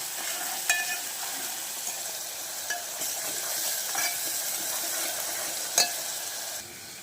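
A spice mixture dry-roasting in a pan, a steady soft crackle and sizzle with occasional louder scrapes of stirring, no voices.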